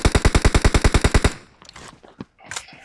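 Rapid automatic gunfire in PUBG on the Sanhok map, a loud close burst of about a dozen evenly spaced shots, followed by scattered fainter shots and clicks.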